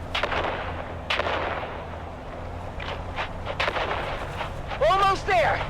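Grenades burst in the video game Dune Awakening, a series of sharp blasts and booming impacts over a rumbling battlefield bed, with several close explosions spread across the stretch and voices faintly underneath.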